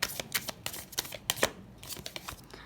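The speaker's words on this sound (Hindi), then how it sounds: "और एक कार्ड पुल करते हैं।" A deck of tarot-style cards is riffled and shuffled in quick, close flicking bursts, then a card is pulled, with no talking.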